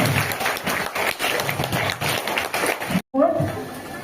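Students and guests at a St Thomas English School exhibition applaud a welcomed guest with steady crowd clapping, mixed with talking voices, before a brief cutoff and a muffled resumption.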